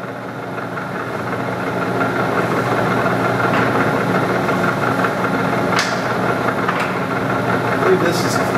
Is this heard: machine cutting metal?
yes